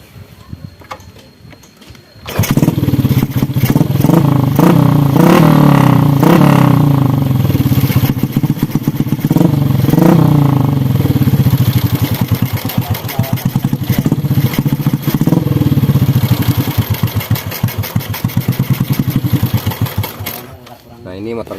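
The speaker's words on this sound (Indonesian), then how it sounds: "Coba kita tinggal ngetes motornya ya, hidup apa enggak ya. Coba kita tes motornya." A small motorcycle engine starts after a brief quiet and then runs steadily near the microphone for the rest of the span, a loud continuous idle with clattering mechanical texture.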